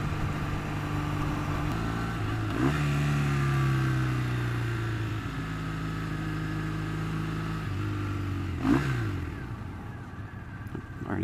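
Triumph Thruxton motorcycle on a test ride, a steady engine drone with rising and falling pitch as it accelerates and shifts through gears, loud and continuous under wind noise.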